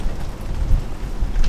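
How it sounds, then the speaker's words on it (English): Rain falls outdoors during a diesel heater install on a cargo trailer, a dense, close hiss and patter with a low rumble underneath, continuous and fairly loud over the brief moment. "I'm out here in the rain getting soaked"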